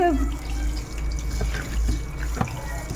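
Tap water runs into a sink while freshly caught pond fish are washed, a steady close splash with a few clunks and handling knocks, voices faintly underneath.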